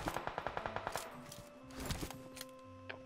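Automatic gunfire in the video game PUBG rattles off as a rapid burst of about a dozen evenly spaced shots, followed by a few scattered single reports and faint game sounds.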